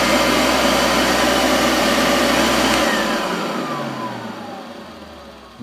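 A Fakir 350 softbag vacuum cleaner whines loudly and steadily, then is switched off and winds down, its pitch sliding lower as the motor spins to a stop.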